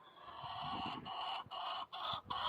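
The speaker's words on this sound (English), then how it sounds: "so the chickens can't get in the coop" Chickens at their coop give a continuous, fairly loud run of nasal, honking clucks, with brief pauses between calls.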